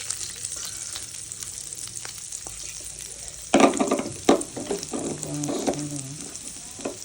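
Onion, garlic and chili hitting hot butter in a pan: quiet at first, then a sharp, loud sizzle erupts and settles into steady crackling frying with stirring clatter.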